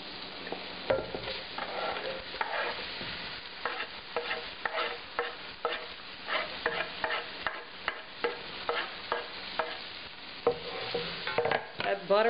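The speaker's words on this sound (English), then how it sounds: "So I'm going to go ahead and put my onions in." Onions sizzling in melted butter in a pot for Cajun crawfish étouffée, a soft continuous fry broken by repeated scraping stirs of a spoon at an even rhythm.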